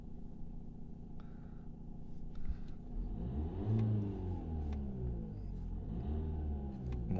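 A 2016 Renault Kadjar 1.5 dCi diesel revs under throttle, a close, steady engine rumble that swells and rises in pitch midway, then settles and climbs again, with no talking.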